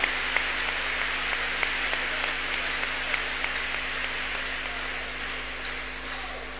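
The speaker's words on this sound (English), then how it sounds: "Clap your hands unto God of the Chosen." Congregation at a deliverance church service clapping hands, a steady broad wash of applause with sharper claps popping out at a regular rhythm over a low hum.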